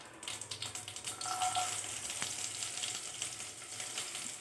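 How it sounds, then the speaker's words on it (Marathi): Cumin, garlic and chili sizzle in hot oil already crackling with mustard seeds, a steady close frying hiss with faint stirring, no voices over it. "आता आपण त्याच्यात जिरं टाकलं आहे. त्यानंतर लसण आणि मिरची."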